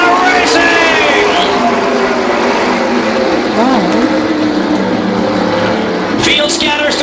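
Pro series stock cars roar off at a green-flag start at Beech Ridge, a loud continuous engine blare with rising tones from the pack and a voice talking over it throughout.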